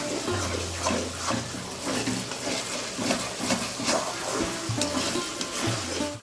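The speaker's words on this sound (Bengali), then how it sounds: "ভাজা মশলাটা একটু ভালো ভালো ভাজা হয়ে গেলে ওই তলায় নাড়িয়ে নিয়ে নেড়েছিলাম যাতে ধরে না যায়, কন্টিনিউ নাড়তে হবে" Spice paste fries in a pan while being stirred continuously, giving a dense, close sizzle under steady scraping and stirring strokes, without voices.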